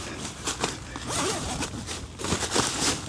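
A large, heavy-duty zipper on a Bereg UP-7 tent is pulled open in one-handed strokes, giving loud, rasping bursts that come in several quick runs with short pauses between them, close up and with no voices.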